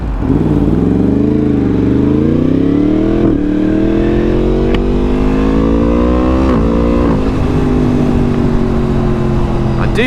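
A Yamaha MT10 motorcycle, freshly repaired after engine failure, cruises on a test ride; its engine drones loud and steady with rising revs, close up over continuous wind noise.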